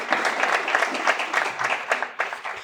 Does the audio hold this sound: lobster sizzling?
no